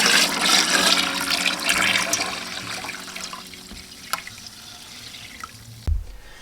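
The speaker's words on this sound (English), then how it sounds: "now we pour in the must" Mead must pours into a fermenting container already holding three gallons, a close, rushing splash of liquid that is strongest at first and tapers to trickles and drips, ending with a soft knock.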